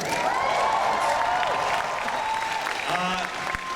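Audience applause at a Comic-Con panel for Family Guy and American Dad, a dense, steady wash of clapping from a large crowd that holds throughout and thins slightly near the end.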